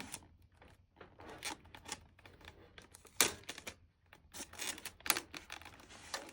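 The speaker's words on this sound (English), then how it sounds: "we're going to start by just applying a little bit of good pressure sensitive tape" Pressure-sensitive tape crackles and rips in short, irregular bursts as it is pressed and smoothed onto a Primo water cooler, faint and close, with no talk.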